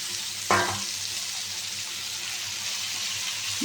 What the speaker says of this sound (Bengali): টমেটো পেঁয়াজ লঙ্কাগুলো ঢেলে দিলাম